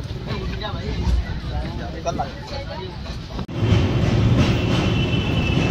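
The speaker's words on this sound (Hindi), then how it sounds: "अयोध्या जंक्शन रेलवे स्टेशन पहुँच गई है ट्रेन।" A train pulling into Ayodhya Junction railway station, a dense continuous rumble and rattle of carriages close by, with a brief dip midway before the noise swells again, while people talk over it.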